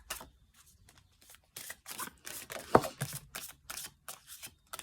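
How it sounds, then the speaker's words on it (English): Oracle cards shuffled and drawn from a deck, a run of short crisp riffling bursts and flicks, close and fairly quiet, with a sharper tap partway through and no talking. "I'm actually just draw a card."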